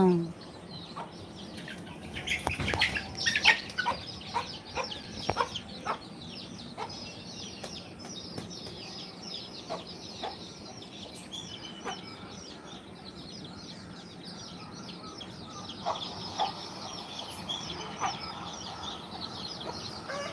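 Native chickens cluck and chirp softly at a distance, scattered calls over a low steady background hum with faint murmuring.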